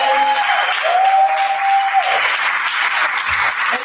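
An audience bursts into steady, dense applause at a women's event honouring curators, loud and sustained clapping from a crowd with a brief whistle-like tone near the start.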